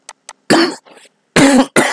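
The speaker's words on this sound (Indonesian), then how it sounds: "Maaf, saya batuk." Harsh, close coughs from a person in an otherwise quiet room: two small throat catches, then three heavy, loud coughing bursts in quick succession.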